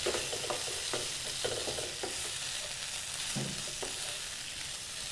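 A spoon scrapes and stirs through potato and cabbage curry as coconut powder is mixed in, with repeated scraping strokes over a steady low sizzle, close and alone with no talk.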